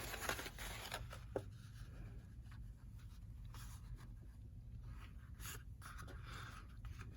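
Card stock base being scored by hand for card making, a steady scraping rub running throughout with faint scratchy strokes and an occasional small tap, close and quiet with no talking.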